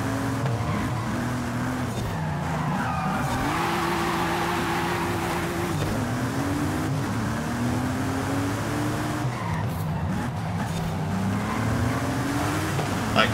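Buzzy, high-revving car engine in Forza Horizon 5 racing around the Mink Creek Circuit, loud and continuous, with rising and falling gear-shift pitch sweeps and occasional tire squeal, no talk.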